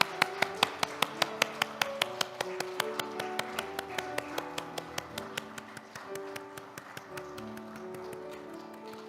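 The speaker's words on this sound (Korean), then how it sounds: "하나님께 영광의 박수 올려드리겠습니다." A church congregation claps in a fast, rhythmic beat, a crisp, regular run of claps ringing in the room that softens and blurs as it goes on.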